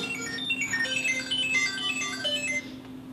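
A phone rings with a bright electronic ringtone, its tones repeating for about three seconds at moderate volume indoors before cutting off near the end; no one speaks over it.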